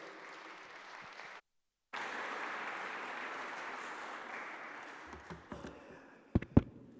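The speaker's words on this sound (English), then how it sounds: "I think we can all applaud ourselves for the work we did." An audience at a conference marking the close of India's G20 presidency breaks into sustained applause, a broad, even wash of clapping that drops out briefly, then returns and thins into a few scattered claps and knocks at the end.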